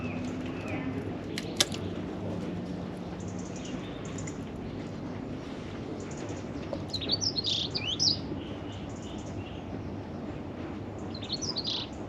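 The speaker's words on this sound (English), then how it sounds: "Listening to the little birdies." Birds chirp and tweet faintly in the background, with a few brighter calls later on, over a low steady hum of ambient noise.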